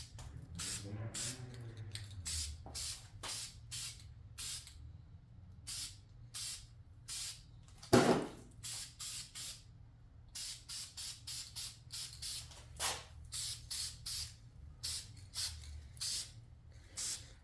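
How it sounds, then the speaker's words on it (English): Short bursts of aerosol spray paint misting onto cleaned VW engine parts with the valve cover installed, a rapid series of hissing puffs of varying length, close and fairly loud, with a brief louder clatter midway. "giving everything a little mist of paint"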